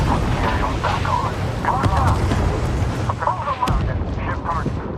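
Cannon fire in the Homeworld 3 space battle thunders in heavy repeated booms under a steady rumble, with radio-style voices talking over the barrage.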